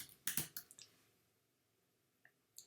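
A few sharp mouse clicks, a quick cluster near the start followed by two fainter isolated clicks, in a quiet room.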